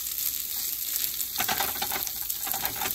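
Korean cabbage and egg pancake frying in a pan, a steady crackling sizzle with scattered pops and spatters that thicken midway, close and fairly loud with no talking.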